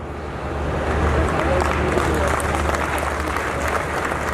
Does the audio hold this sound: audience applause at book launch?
yes